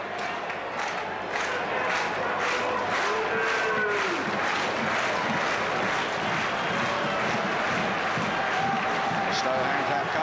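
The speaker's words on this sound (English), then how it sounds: "Slow hand clap coming for Alan Stevenson" A football crowd at a 1975 Big Match fixture joins in a slow hand clap aimed at goalkeeper Alan Stevenson, a dense, steady roar of claps and chanting filling the stadium throughout, with commentary running over it.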